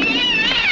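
A cat gives a loud, close meow, one drawn-out harmonic cry lasting under a second with no voices over it.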